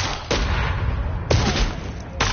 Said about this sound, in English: No, that's a sniper.